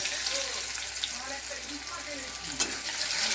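Chopped onion going into hot oil with whole garam masala in a wok, giving a continuous close sizzle with light stirring and a brief clink near the end.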